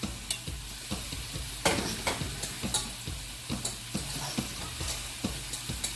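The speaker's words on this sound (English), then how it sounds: "there's how that is browning up in the pot" Ground beef browning in a pot, a steady sizzle broken by repeated clicks and scrapes of stirring, close and continuous.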